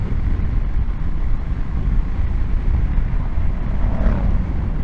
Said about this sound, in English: That's a loud bike.